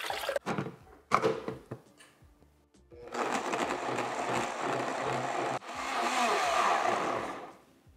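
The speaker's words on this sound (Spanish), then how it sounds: "Estos chiles guajillo los voy a estar moliendo con un poquito de sopa de pollo" Soaked guajillo chiles blended with chicken broth: a few knocks and clunks, then a blender whirring loudly in two long bursts with a brief pause between.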